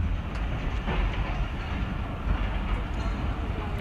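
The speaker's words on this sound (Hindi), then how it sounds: "तो अभी हमारी ट्रेन उधर ही डाइवर्ट हो रही है" The 12dn Hazara Express passenger train rolls along with a steady rumbling rush and faint rhythmic wheel clatter from inside a carriage, moderately loud and continuous, with faint voices in the background.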